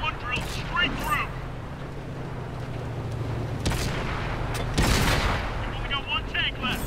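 Tank cannon shots in World of Tanks as a T28 tank fires, two loud broadband blasts with a rumbling tail over continuous engine drone and game sound, with someone speaking in between.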